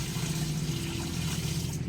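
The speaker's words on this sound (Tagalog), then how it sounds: "ganito yung pag-iigib dito sa amin" Water drawn by hand from a rural well makes a continuous trickling, splashing wash over a low steady rumble, close by and unbroken, with no voices.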